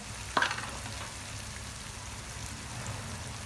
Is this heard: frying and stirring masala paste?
yes